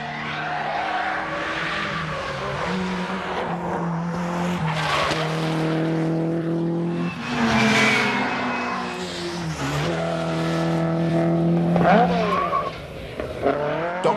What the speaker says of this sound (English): It's a quite different matter controlling a car on loose gravel to a fast and furious thrash round a racetrack